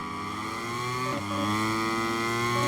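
A KTM motorcycle engine in the MotoGP 23 video game whines loudly close behind, its rising harmonic drone dipping briefly and then climbing again as it revs hard.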